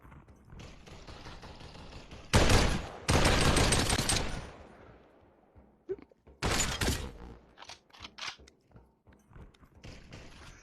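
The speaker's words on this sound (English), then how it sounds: "go ahead and feel free to shoot back at me now" Gunfire in the VR shooter game Population One: several sharp bursts of rapid automatic fire, two long loud volleys and shorter clusters, with quieter game noises and scattered clicks between.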